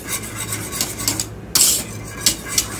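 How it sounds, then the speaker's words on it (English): A cornstarch-thickened custard being whisked in a pot, giving a continuous rapid scraping rasp of the whisk against metal, close and steady, with a few louder strokes. "But just don't stop whisking"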